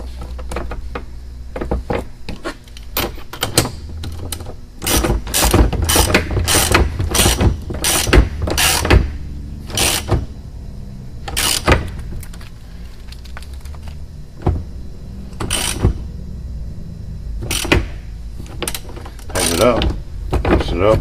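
An A/C hose fitting is crimped by screwing down a hand crimping tool, giving a long series of sharp metallic ratcheting clicks and clunks, close and loud, in bursts with pauses and little talk.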